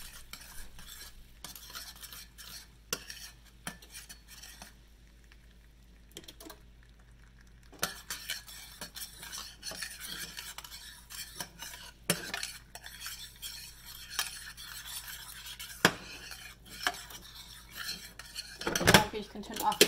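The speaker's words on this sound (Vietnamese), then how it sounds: "Now I start to melt all the sugar" Sugar melts in a pot on the stove for flan caramel, with steady quiet scraping and stirring, light clinks of a utensil against the metal pan and a faint sizzle, growing busier and louder toward the end.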